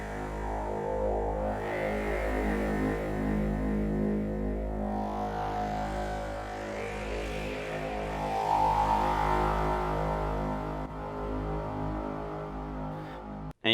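Dry pseudo-random FM synth tones from a VCV Rack patch modulated by LFOs, with no ambience processing, form a dense drone. A steady low hum runs beneath shifting, warbling mid-range tones, continuous and even in level before an abrupt cutoff.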